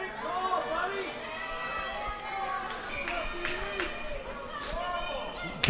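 Crowd noise at a high school hockey game, a steady murmur of chatter with scattered shouts and brief bangs, heard at moderate distance without clear speech.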